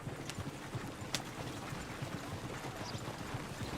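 Horse hooves clip-clopping in the Red Dead Redemption 2 video game, a steady rhythmic series of soft thuds over a constant outdoor ambient hiss, moderately distant with no talk.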